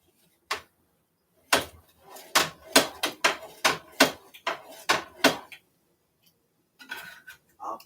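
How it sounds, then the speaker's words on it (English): A pizza cutter slices a cauliflower spinach wrap breakfast pizza in a metal pan, giving a close, loud run of sharp metallic clacks and scrapes in quick bursts, then a pause and a few softer knocks, with no talking. "So I have my pizza cutter here. So I'm going to cut it in half"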